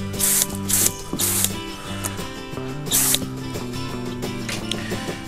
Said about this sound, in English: I'll give that a quick rinse.